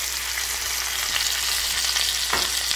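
Salmon seared skin-side down in a hot pan, a steady close sizzle and crackle with small pops, no voices over it.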